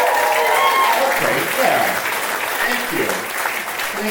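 A comedy club audience claps in a dense, sustained burst of applause that fills the room throughout, while a performer speaks briefly over it.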